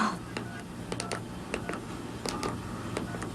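A telephone being dialed to call clients on a Saturday night, a series of short separate key presses or tones spaced irregularly over a low steady hum, heard close with no talk.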